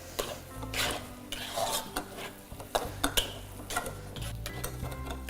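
Mohan Thal mixture being stirred and roasted in a pan, with a spoon scraping and clinking against the metal in irregular strokes, close and fairly quiet, with faint sizzling underneath.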